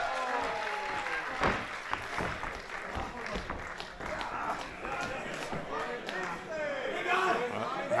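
A wrestling crowd claps and cheers after a body slam in the ring, a scattered burst of applause and chatter from a modest audience, heard under continuous talking.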